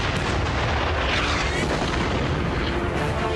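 Dense battlefield explosions in the video game Soldats inconnus, heavy booms and artillery-like blasts rolling continuously at loud volume with no break.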